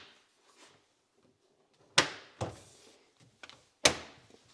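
Wooden drawer fronts on a luxury garage cabinet clip onto their hinges, giving three sharp knocks with a couple of softer taps between, close and clear in an otherwise quiet room.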